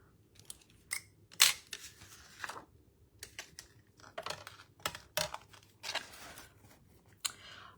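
Scissors snip through craft pieces in a quick irregular series of sharp, close clicks and cuts, with short pauses between bursts and no talking.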